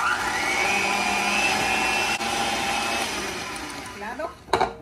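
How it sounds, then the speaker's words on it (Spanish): Electric mixer beating butter and sugar for a banana cake: a steady, close motor whine runs throughout, then wavers and breaks into a brief clatter at the end. "con un batidor vamos a batir bien la mantequilla con el azúcar"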